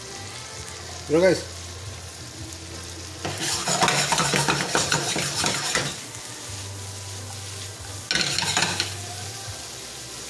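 New York steak sautéed with cabbage in a pan, giving a steady sizzle and frying hiss with bursts of stirring and scraping against the pan. Someone speaks briefly over the cooking.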